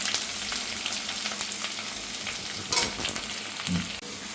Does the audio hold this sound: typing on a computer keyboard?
no